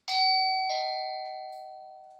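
A budget security camera's doorbell chime plays a clear two-note ding-dong, bright and close, with the second tone ringing out and slowly fading.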